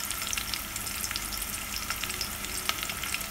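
Onions frying with salt in a pan for street-style masala dosa filling give a steady, dense sizzle with faint scattered crackles, close and continuous, no voices.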